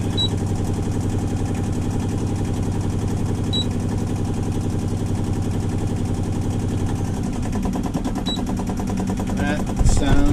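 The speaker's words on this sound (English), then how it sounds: "That sound is the alternator kicking on, charging the battery." A sailboat's inboard engine idles in a steady, close, low rumble; around seven seconds its tone shifts as an oversized 100 amp alternator kicks on to charge the battery, with a faint click near the end.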